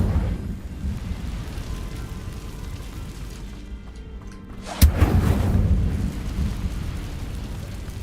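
A fire spell cast in Hogwarts Legacy erupts as one sudden loud burst, then a roaring, rumbling whoosh of flames that lingers over a dim ambient bed.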